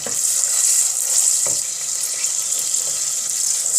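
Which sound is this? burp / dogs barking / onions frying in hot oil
onions frying in hot oil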